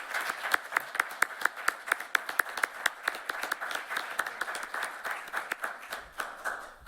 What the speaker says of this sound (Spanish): el doctor Raúl Contreras Bustamante, para quien pido un aplauso.